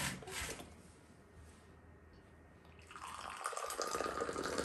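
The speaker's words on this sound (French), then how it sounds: "je verse un premier verre que je vais remettre dans ma théière" Moroccan mint tea poured from a teapot into a glass, a soft trickling stream that swells louder and brighter toward the end, faint and close with no voices.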